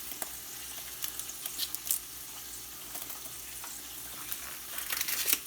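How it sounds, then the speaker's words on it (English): Bacon sizzling at the bottom of a pot for a garden vegetable survival stew, a steady crackling fry with scattered sharper pops and spits, close and alone. "into the pot here where we got our bacon sizzling at the bottom"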